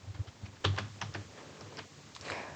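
Someone types data into an Excel spreadsheet on a computer keyboard, producing steady close key taps with a few louder strokes, heard alone without talk.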